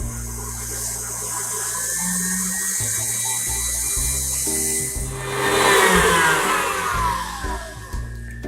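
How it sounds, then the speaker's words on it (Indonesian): An electric mixer whisking a mixture for a chocolate caramel tart, running at low speed and then stepping up with rising whine and a louder churning surge near the end, close and without speech. "sekarang kita akan kocok dengan kecepatan rendah dulu. Kita naikkan perlahan, kita kocok hingga mengembang."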